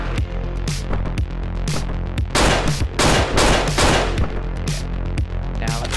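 Rapid gunfire in the video game Hotline Miami 2: a loud run of sharp, crackling shots in irregular bursts, some clustered into quick volleys, filling the whole stretch without any talking.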